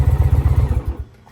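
Engine of a 2023 Indian Pursuit motorcycle idling close by, a loud, lumpy low pulsing throb with a faint whine on top, fading away near the end.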